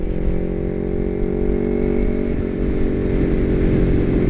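A beginner motorcycle's engine drones steadily while being ridden, the tone shifting slightly about halfway through as the throttle changes, close and loud with no talking.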